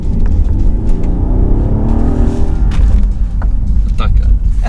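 A Rolls-Royce Wraith's V12 engine revs and roars close by, its pitch rising then falling, while people talk over it.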